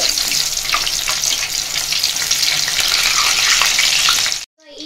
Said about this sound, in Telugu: సో ఇలా మంచిగా 2 sides రోస్ట్ చేసుకోవాలి.